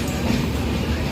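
Simhadri Express passenger train rolling on after departing Narsipatnam Road station in light rain, a steady low rumble and rattle of coaches heard from inside, continuous and fairly loud.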